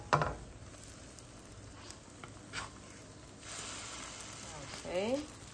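A chocolate pancake sizzles softly in a pan just after being flipped, a faint, steady frying hiss with a few scraping and tapping touches, quiet and close.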